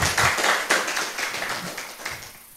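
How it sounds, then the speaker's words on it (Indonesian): Light, scattered hand clapping from a small audience at an Indonesian forestry-industry gathering, a few seconds of loose claps fading slightly, with a faint voice underneath. "Tepuk tangan."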